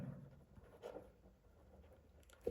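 A pen scratches across paper while working through a math problem, the soft strokes quiet and close, in short irregular bursts.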